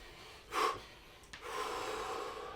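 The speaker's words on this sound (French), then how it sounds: "Videz les poumons" Two deep, audible exhalations, each a sharp breathy whoosh and the second drawn out longer, close to the microphone during an exercise session, with no talking.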